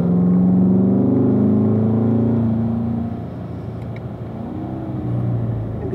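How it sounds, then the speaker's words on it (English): Corvette on a racetrack during a driving school session, engine droning loudly and steadily as it accelerates through the gears, the pitch sweeping upward before settling as it shifts into fourth. "Go ahead and get that car back up to fourth gear."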